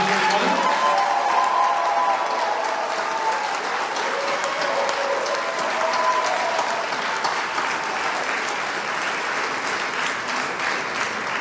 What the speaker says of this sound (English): Ladies and gentlemen, a round of applause for the graduating class of 2021.